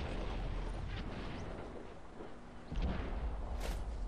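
A booming tank cannon shot in World of Tanks on Xbox 360, fired from a Tier 9 British heavy tank, the Conqueror, with a heavy low rumble and a fresh blast near the end.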